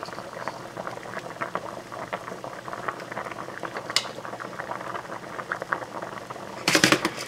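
Shrimp cook in a pan that is not very hot, giving a soft, steady sizzle and bubbling with scattered little pops, close and fairly quiet, with a brief louder burst near the end.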